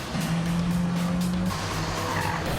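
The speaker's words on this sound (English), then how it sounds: "Owen goes slightly sideways, loses a bit of time here as they head down into the barn" A BMW M5 F10 sliding sideways on a leaf-covered track, a sustained tire squeal and skid over a loud, steady engine roar, then a second shorter squeal, close and continuous.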